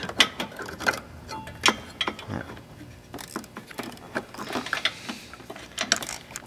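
A socket ratchet works on a downpipe nut during an exhaust downpipe install, giving bursts of quick, close clicking with short pauses between strokes.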